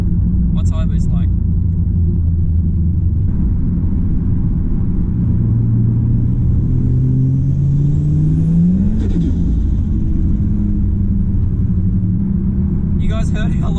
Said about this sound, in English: You guys heard how long I brought on that turbo? You heard how long that took to spool?